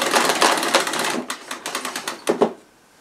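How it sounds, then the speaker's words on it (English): A Sebo E3 Premium vacuum cleaner rewinds its power cord, a quick rattling whir of dense clicks that breaks into shorter bursts and ends with a final clack. "machine will rewind the cable."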